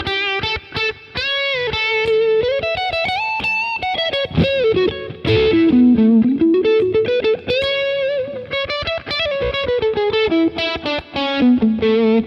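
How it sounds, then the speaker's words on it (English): An electric guitar plays a distorted, effects-heavy solo line through a Boss Katana GO headphone amp with plate reverb. Sustained bent notes and quick runs run continuously and up close for about twelve seconds. "I want to add a little bit more reverb."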